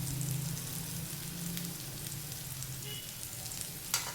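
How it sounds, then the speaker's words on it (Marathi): A besan flatbread cooks in a pan over a low gas flame, giving a quiet, steady sizzle with soft crackles and a faint clink near the end. "त्याची एक बाजू स्लो गॅसवर भाजायची"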